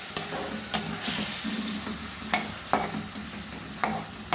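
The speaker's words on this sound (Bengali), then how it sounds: "আমি মিনিট 4-5 আমি চিকেনটা এইভাবে আমি ভেজে নেব" Chicken frying in a little oil with spices sizzles steadily in a pan, punctuated by several sharp clacks of a spatula stirring and scraping at irregular intervals.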